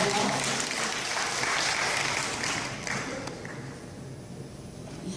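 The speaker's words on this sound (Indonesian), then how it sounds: "Kita sebut dengan tepuk tangan kita." Sustained applause from an audience at a university gratification-awareness session, dense and loud throughout before gradually thinning toward the end.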